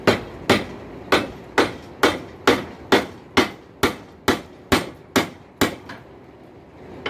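A hammer striking a hot steel wrench on an anvil to straighten its canted head, about fourteen sharp ringing blows at a steady, unhurried rhythm, close and loud, with no talk.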